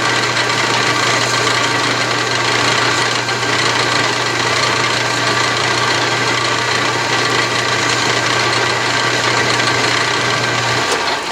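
An Atlas/Craftsman 12-inch lathe runs steadily while making a light scratch cut on a 20-threads-per-inch thread, a constant loud mechanical hum and whir with a low motor drone throughout.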